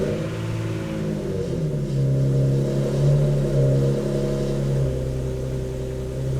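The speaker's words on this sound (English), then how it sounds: "Now we're just going to start the engine up just to get all the oil moving around the engine" A Nissan Pulsar GTI-R engine runs at idle after starting, a steady close low rumble with a slight swell in revs midway, no voices.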